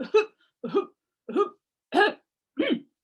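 A storytelling performer voicing a tree gives five short, separate voiced coughs, spaced roughly evenly with silent gaps between them, close and clear. The human voice imitates a tree coughing.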